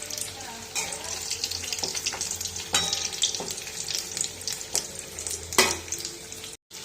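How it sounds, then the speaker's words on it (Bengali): Egg chops frying in oil for a home-cooked recipe, a steady close sizzle running throughout with scattered clicks and stirring knocks, no talking. "এগুলো একটু ভাজা হবে, ভেজে নিই তারপর তুলে নেব।"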